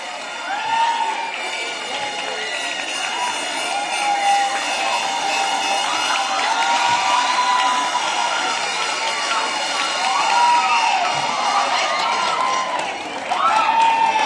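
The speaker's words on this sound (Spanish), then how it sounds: "Fuertes aplausos para recibir a la candidata número uno, María Isabel López Méndez." A large crowd applauds and cheers at a pageant-style event as the number one female candidate is welcomed, a steady roar of clapping and shouts with whistles and whoops rising throughout, loud and continuous.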